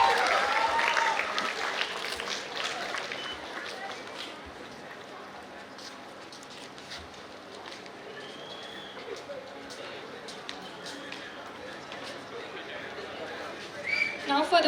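Audience applause for prize winners at a school award ceremony, clapping that starts strong, settles into a softer, thinner patter with crowd murmur, then swells again at the end.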